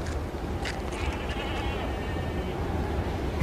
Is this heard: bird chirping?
no